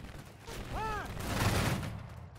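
Musket volley fire in the Battle Cry of Freedom game, a Napoleonic-era line battle mod, rolling as a continuous crackling fusillade over about two seconds with a brief whistling tone near the start.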